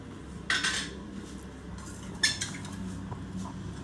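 A metal spoon clinking against a pot while adding two spoonfuls of sugar, two distinct scraping clinks about two seconds apart over a quiet kitchen background, with no talk.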